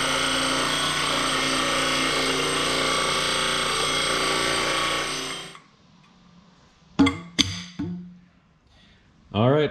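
A power tool cuts steel tubing for a vehicle's front suspension links, giving a loud, steady grinding whine that stops abruptly after about five seconds, followed by brief sounds that may include a voice.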